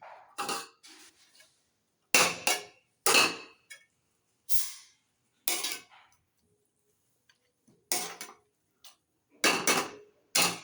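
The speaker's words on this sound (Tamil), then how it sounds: "இப்போ கொஞ்சோண்டு கொத்தமல்லி கட் பண்ணி போட்டுக்கிறேன்" Knife chopping fresh coriander leaves on a board for paneer curry, a string of crisp, close cuts in short bursts with silent gaps between them.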